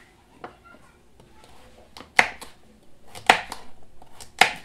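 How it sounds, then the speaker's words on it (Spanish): Knife chopping food into large cubes in a home kitchen, with a few sharp, close cuts spaced about a second apart over faint background noise. "Yo la voy a picar en cuadros grandes"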